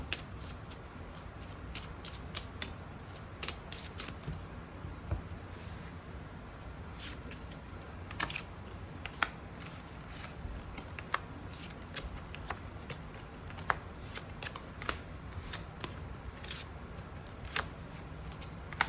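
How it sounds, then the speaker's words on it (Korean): Tarot cards are shuffled and drawn by hand, a quiet, close series of crisp flicks and soft rubbing slides with scattered sharp card snaps. "추가 카드 뽑아보도록 하겠습니다"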